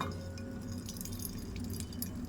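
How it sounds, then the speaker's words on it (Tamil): Water squeezed by hand from grated snake gourd drips and trickles steadily in a kitchen, a soft close-up wet patter with faint squishing and no talk. "இதை பாருங்கள் எவ்வளோ தண்ணி வருது."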